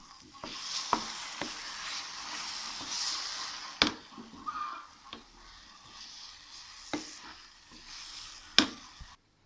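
Mango puli inji being stirred and mixed in a pan: soft scraping and sizzling texture broken by several sharp clicks of the spoon against the pan, close and fairly quiet, with no talking.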